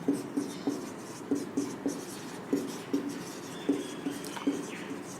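Chalk or marker writing on a classroom board, a run of short regular taps and strokes about one every half second, close and fairly faint.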